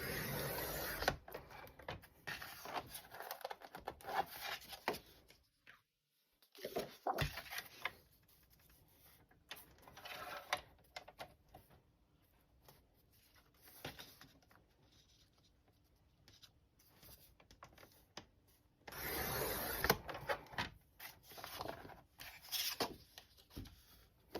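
A Cricut cutting machine cuts several lines at once for Halloween party favors, giving a close, steady scratching and whirring rasp that pauses briefly and then resumes, with no voices.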